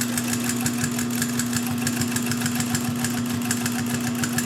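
A Pfaff 134 industrial sewing machine runs steadily, a fast, even mechanical whir with a strong motor hum and rapid rhythmic needle clatter, close and loud with no talking.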